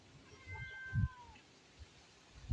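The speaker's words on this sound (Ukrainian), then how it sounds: "А, он м'явкає в літній кухні." A cat meows from inside a summer kitchen at a rural home, a few soft, drawn-out mewing calls at moderate distance with low thumps and handling noise around them.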